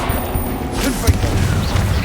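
The Confringo blasting spell goes off in Hogwarts Legacy, a booming, crackling impact amid ongoing in-game combat noise, fairly loud and close.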